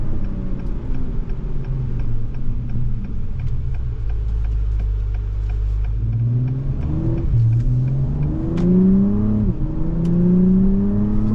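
A 2023 Acura TLX Type S accelerating down the road, its engine note rising strongly through the gears with a quick shift dip, loud and close.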